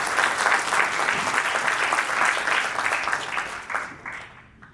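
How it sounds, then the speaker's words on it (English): Sustained applause from a crowd at an Indian American business council event in Chicago, steady and dense, tapering off toward the end. "Please give him a round of applause."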